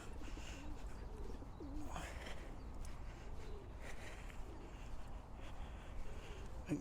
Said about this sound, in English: Plenty of pigeons.